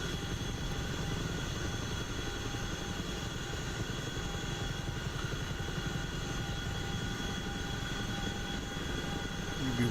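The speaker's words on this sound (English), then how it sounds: "Maybe we can go make some helicopter noises to the people at the fire base" A Chinook helicopter in DCS, flying over Afghanistan, gives a continuous heavy rotor thrum and turbine whine, steady and loud throughout with no break or voices.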